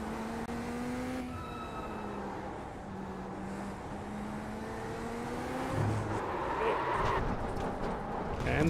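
A Corvette GT3 race car engine in the iRacing sim, droning and shifting pitch steadily as the car circles the track, rising and roaring louder toward the end while a voice talks over it.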